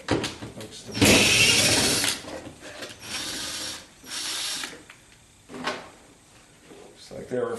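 A ratchet tool fitted with an 8 mm socket works screws loose in a 1976 Corvette, giving several bursts of rapid clicking and mechanical rasping separated by pauses, with a person talking in between.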